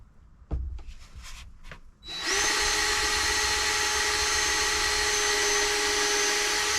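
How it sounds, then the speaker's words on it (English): Cordless drill drives screws into a wooden floor being fitted in a Vauxhall Vivaro camper van conversion, a few brief knocks first, then a loud, steady, high whine of the driver running continuously up close. "I'm literally just putting in these screws now to put it down for its final resting place"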